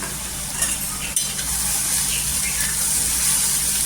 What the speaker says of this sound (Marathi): तव्यावर भाजून घ्यायचं छान असं